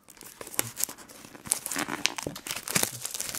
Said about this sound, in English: there we go, tear this open.